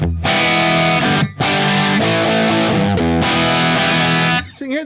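An electric guitar plays through an overdriven amp with 77 power tubes, giving a thick, gritty, distorted tone. Chords ring out loud and continuous with brief breaks between them.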